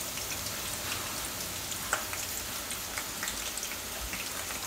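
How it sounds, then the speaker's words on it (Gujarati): Soaked rice is tipped into a pot of boiling water while cooking biryani, giving a soft, steady hiss and bubbling with faint patters, fairly quiet and without speech. "ભાત આપણે પાણીમાં ઓરી દેવું."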